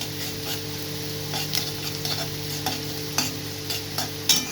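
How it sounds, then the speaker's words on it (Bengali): Onions frying for a prawn curry are stirred in a pan, with a steady sizzle and scattered scraping strokes that grow a little louder toward the end, heard up close with no talk. "পেঁয়াজ একদম গলে যাবে এমনভাবে ভাজাটা হবে"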